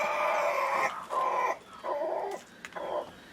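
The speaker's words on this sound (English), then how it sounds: "Shut up, Rooster." A rooster crows in several short, strained bursts, fairly close and alone, with brief pauses between calls.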